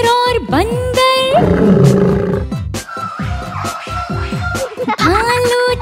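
A cartoonish lion roar in a Hindi children's rhyme, loud and close, sounding over a bouncy music track with singing voices around it.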